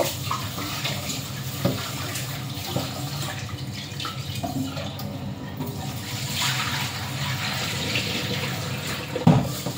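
Rice being washed in water, with continuous sloshing and running-water noise and occasional small knocks and splashes, moderately close, ending in a brief louder clatter.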